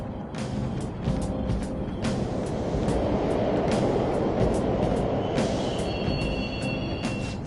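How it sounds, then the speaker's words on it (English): Subway trains run through a tunnel in Persona 5 Royal, a rumbling roar of wheels on rails with clattering bursts and a high screech near the end, steady and fairly close. "The trains are totally running!"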